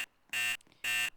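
Simplex 4050 fire alarm horns on a 1950s system, sounding two loud, harsh buzzing blasts about a quarter second each with a short gap, nearby.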